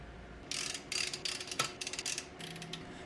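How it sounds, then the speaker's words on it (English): A torque wrench ratchets in short clicking bursts while tightening the engine of a 1974 vintage project car, crisp and close, several quick runs of clicks with brief pauses. "It's called a torque wrench, gives you more finite measurement than ugga-duggers"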